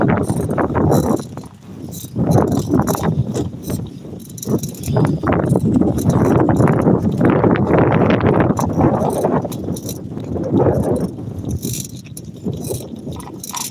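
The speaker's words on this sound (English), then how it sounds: "Windy, windy, windy." Strong wind buffets loudly and continuously, a heavy rumbling roar with gusts rising and falling throughout.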